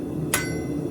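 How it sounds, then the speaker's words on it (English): A hammer strikes hot steel on an anvil during horseshoe forging: one sharp, bright clang near the start, standing out over a steady low shop hum. "go ahead and hit right there, right down the center of the anvil"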